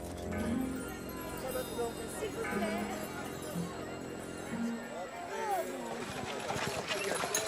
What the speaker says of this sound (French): Il arrive, la calèche du gouverneur!